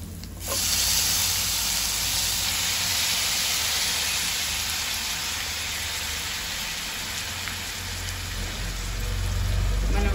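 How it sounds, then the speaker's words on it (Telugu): Eggplant pieces fry with onions in a pan, a loud steady broadband sizzle and hiss starting abruptly and continuing evenly throughout, close and uninterrupted by speech. "ఉల్లిగడ్డలు వేగిపోయాయండి. సో ఇప్పుడు ఇందులో నేను వంకాయ ముక్కలు వేస్తున్నాను."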